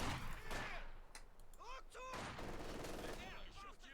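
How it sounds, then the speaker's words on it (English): Pak 40 anti-tank guns and other weapons fire repeatedly in a Company of Heroes 2 battle, loud sharp bangs and bursts of gunfire over a dense combat din, with no voices. "there's Pack 40 firing away there"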